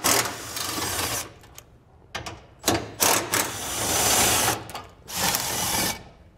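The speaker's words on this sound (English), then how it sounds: "we're gonna take a 13 millimeter socket. We'll go ahead and remove those 4 bolts so we can get our bracket out of the way" A 13 mm socket on a ratchet backs four bolts out of a bracket on a 2022 Chevrolet Colorado, making loud, close bursts of rapid mechanical clicking separated by short pauses.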